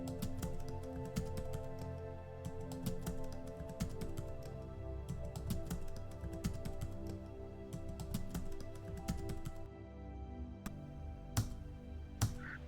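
Lines of C++ code typed into a main.cpp file on a computer keyboard, with steady, fairly quiet key clicks running through the whole stretch and a few sharper taps near the end.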